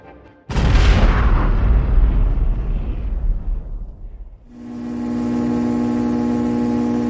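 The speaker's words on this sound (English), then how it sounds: "Beach Guy positioned his hand next to a hole on the top of the cannon and ignited the trinket." One massive booming blast erupts and rumbles away over a few seconds, followed by a steady droning hum.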